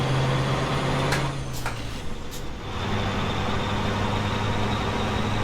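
A Cummins V903 engine in a K100-C truck in American Truck Simulator rumbles steadily at idle, muffled then clearer as a window opens, with a brief air hiss partway through.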